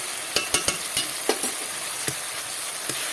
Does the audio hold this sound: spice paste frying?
yes